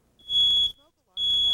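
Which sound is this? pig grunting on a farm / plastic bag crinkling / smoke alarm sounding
smoke alarm sounding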